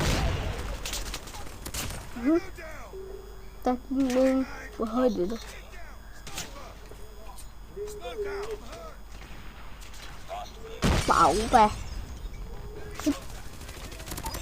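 Call of Duty gunfire crackles in scattered bursts, with a sharp volley near the end, while a person talks excitedly over it.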